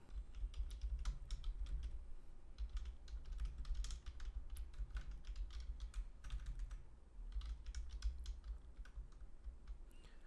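Typing on a computer keyboard, a rapid, continuous run of light key clicks and taps, close and fairly quiet, with a low background hum.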